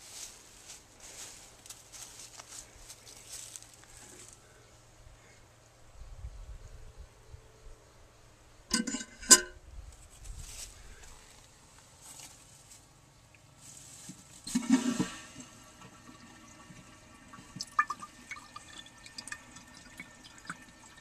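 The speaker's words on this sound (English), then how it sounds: "now I'm going to turn on the water and fill the tank" Water trickling and dripping as an Eljer Waco forward-trap toilet tank refills, faint and intermittent, with a few louder splashes and knocks along the way.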